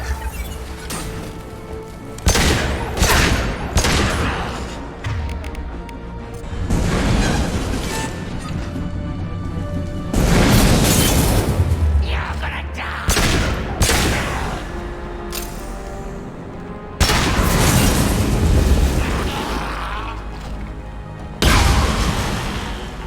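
Video game combat in Mass Effect 2, with repeated loud bursts of gunfire and booming explosions arriving in heavy waves over a constant rumbling battle background.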